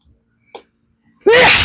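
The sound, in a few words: sneeze from dye powder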